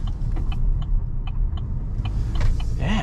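A 2024 Chevy Silverado 1500 Custom pickup engine rumbles steadily and close while the truck turns a tight corner, with faint clicks and interior sounds over the low drone.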